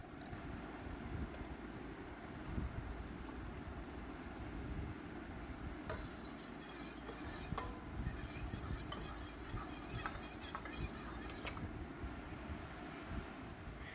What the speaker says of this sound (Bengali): তার সঙ্গে ঝোলের মধ্যে সামান্য জাফরান দুধও মিশিয়ে নিচ্ছে